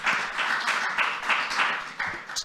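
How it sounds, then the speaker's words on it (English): An audience at a geopolitics and economics talk claps briefly in a short burst of dense, fairly close applause with no talk over it. "A round of applause for Manas. Quite a big one."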